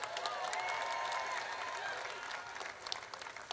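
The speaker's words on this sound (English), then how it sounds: "Give them a round of applause." A crowd claps and cheers at an outdoor parade for a women's basketball national title. The applause is a soft, distant, continuous wash of many hands that trails off slightly at the end.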